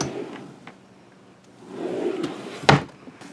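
Two junk drawers in a basement art room slide open and shut, with a soft wooden rumble early on, another around the middle, and a sharp thump near the end as a drawer closes.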